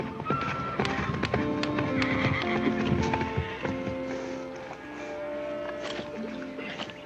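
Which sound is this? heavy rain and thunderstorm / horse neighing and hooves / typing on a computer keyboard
horse neighing and hooves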